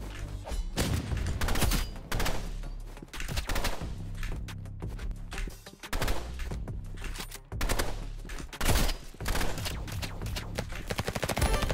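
Burst rifle fire from a scout in the Roblox Rivals video game, with repeated short bursts of sharp shots on a steady rhythm, loud and close, and brief gaps between volleys.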